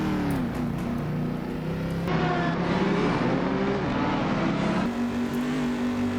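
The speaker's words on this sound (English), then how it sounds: "as we have a Ferrari down our inside" Ferrari GT1 race car in the Assetto Corsa racing game roaring past on the inside, a loud, steady high-revving engine drone with shifting pitch and a gear change partway through.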